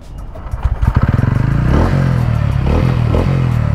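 A TVS Ronin 225 BS6 motorcycle fires up close by, a rapid burst of starter thumps giving way to a smooth, bassy, fairly loud idle that rises and settles.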